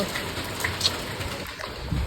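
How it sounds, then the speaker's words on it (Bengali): Steady, dense hiss of heavy rain falling outside at night, with thunder, moderately loud and constant throughout with a few faint patters. "বাইরে পড়ছে অসম্ভব জোরে বৃষ্টি আর কি জোর জোর মেঘ ডাকছে"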